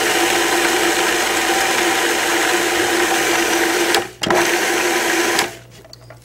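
A food processor grinds a raw dessert crust of dates and coconut, a steady loud motor whine that briefly dips and restarts, then cuts off near the end.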